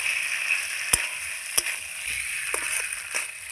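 Fried shola kachu (taro) pieces and potato hit a pan of spice paste, giving a steady close hiss of sizzling oil with a few sharp clinks of a spoon against the pan.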